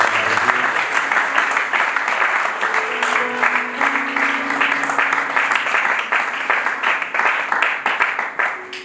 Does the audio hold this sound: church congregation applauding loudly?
yes